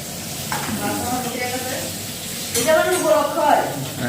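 Food sizzles and fries in a pan while being stirred, a continuous hiss with scraping bursts, louder toward the end, with people talking in the background.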